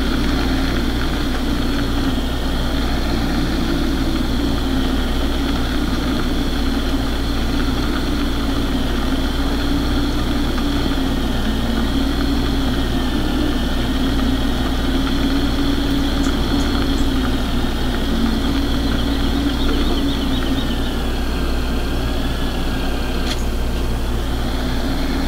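A tractor engine runs at a steady idle, a loud, continuous low rumble with an even mechanical hum that stays unchanged throughout, with no voices.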